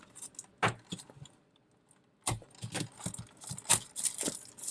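Shrink wrap being peeled and crinkled off diecast model car packaging, with sharp bursts of plastic crackling and tearing in short irregular spurts and a quiet pause in between, close up and without speech.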